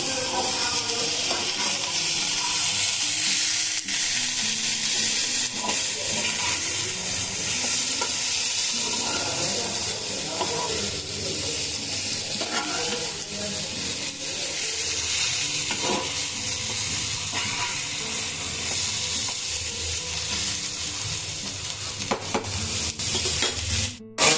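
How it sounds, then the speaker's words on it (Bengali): Pumpkin and bitter gourd fry in an uncovered pan, a loud continuous sizzle and hiss with scattered stirring scrapes and utensil knocks throughout, no talk. "অন্তত এইভাবে আমি ঢাকা খুলে 5 মিনিট ভেজে নেব।"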